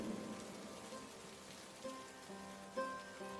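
Rain falls steadily in a deserted park, a soft, even wash of drops on surfaces, faint and distant with no voices.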